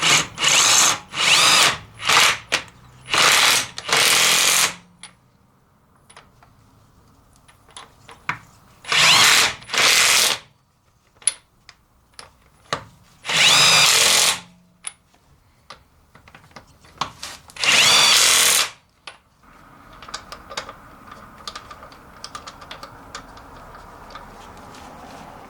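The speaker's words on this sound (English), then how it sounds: "So I had to manually thread in the bolts just a tiny bit and then use the impact to do the heavy job." A Parkside impact wrench tightening wheel bolts fires in several loud, hammering bursts of a few seconds each, separated by quiet pauses and small handling clicks, with no talking.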